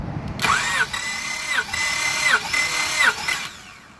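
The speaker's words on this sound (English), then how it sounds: "So I'm gonna crank the engine right now for around 4 seconds." A car engine cranks on the starter during a compression test, a steady whirring churn lasting about four seconds with a rhythmic pulse as each compression stroke comes around, close and fairly loud.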